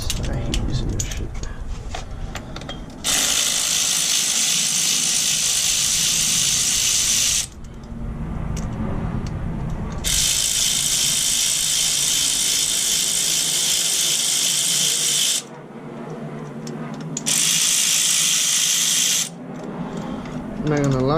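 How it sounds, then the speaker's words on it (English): Power tool loosening bolts during a car intercooler install, several sustained whirring bursts of a few seconds each in a garage, alternating with quieter gaps. "these power tools come in handy a lot"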